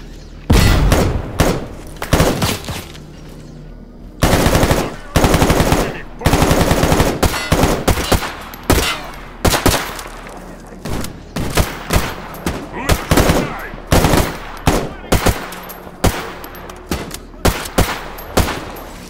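Loud, dense gunfire from the video game Stalker GAMMA: rapid automatic bursts and single heavy shots in a sustained firefight, with booming impacts and thuds filling the whole stretch.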